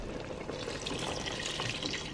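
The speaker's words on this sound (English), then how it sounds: "So now I'm going to just add a little bit more water to it" Water poured into a pot of cooking goat meat, a steady splashing, gurgling stream running at even strength throughout, fairly close and with no talk.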